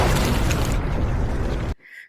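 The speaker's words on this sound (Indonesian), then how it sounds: "dalam beberapa detik kemudian bom tetap meledak dengan sangat dahsyat" A bomb explodes violently, a loud broadband blast filling the clip for nearly two seconds before cutting off abruptly, with only a faint tail after.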